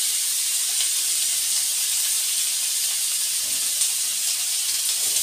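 Onions sizzle in a pan as gravy for Manchurian is started, a steady, close hiss of frying that continues evenly with no pauses and no talking.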